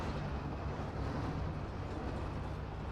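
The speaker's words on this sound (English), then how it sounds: "That's the sound of that KV-1." A Soviet KV-1 heavy tank engine in the video game Company of Heroes 2 rumbles continuously, a deep, droning roar with a broad noisy wash layered over it, steady and unbroken throughout.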